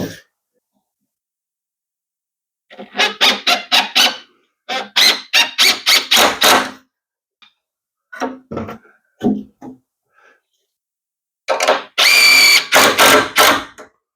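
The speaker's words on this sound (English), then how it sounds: "Get a couple more fasteners in it, just so we have some strength here to hold." Power drill driving fasteners into wooden boards for a wheelchair ramp, heard as rapid repeated bursts of whirring in separate runs with quiet gaps between, close and loud.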